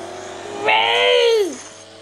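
A racing video game car engine on a tablet revs up sharply, holds a whining harmonic tone for under a second, then winds down, loud and close over quiet background hum.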